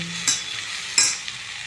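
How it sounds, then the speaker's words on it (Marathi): Masala being stir-fried in a pan with ghee and salt, heard as two sharp scraping stirs against a steady frying sizzle, close and loud with no voices. "सर्व टाकून परतून परतून घ्यायचं सर्व मसाला"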